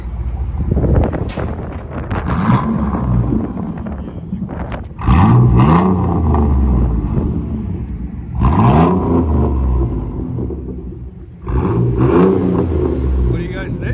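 A 2003 Chevy S10 with a 4.3L V6 and straight-pipe dual exhaust revs in several loud, rising bursts that fall back to a rumbling idle, close by, with wind buffeting the microphone.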